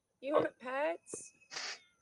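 A pet cat gives a few short meows in a quiet room, each cry separated by brief pauses, close and clear.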